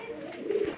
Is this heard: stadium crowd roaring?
no